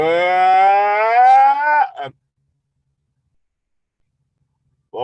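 A long, drawn-out moo, loud and close, cuts off abruptly; after a stretch of silence another begins.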